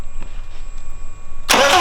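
A BMW E60 535d diesel engine cranks and catches near the end after a quiet stretch, its start bursting in loud and close, with no talk.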